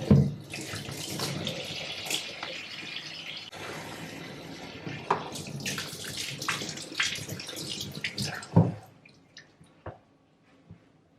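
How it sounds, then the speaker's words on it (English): Oranges are rinsed under a running kitchen sink tap, with close, continuous splashing and gurgling water, hand rubbing and a few clunks, before the flow stops and a few faint drips and knocks follow. "I like to wash them off."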